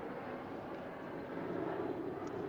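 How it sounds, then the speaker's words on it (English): A Boeing 747 airliner passing high overhead makes a faint, steady broadband roar that swells slightly toward the end, distant and alone. "You can hear the airplanes flying over me right now"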